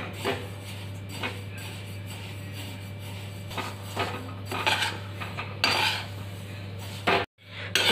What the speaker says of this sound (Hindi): सिर्फ खाली हम इसको भून लेंगे। ये हम 2 से 4 मिनट के लिए भूनेंगे सिर्फ।